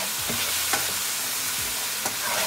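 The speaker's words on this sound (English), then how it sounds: "Cooking our spices along with our tadka for half a minute." Spices for a tadka of garam masala, turmeric, red chili powder, salt, coriander and cumin fry in hot oil with a soft sizzle, as a spoon stirs in two or three quick scraping strokes.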